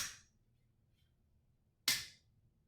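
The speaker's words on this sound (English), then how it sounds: "when you pull the slide back, it sounds just like a genuine Glock when you release it" A Glock 17 Gen 4 BB gun with a stiff spring gives a sharp metallic snap as the slide is released, followed by a second crisp clack after a short pause, close and loud with nothing else heard.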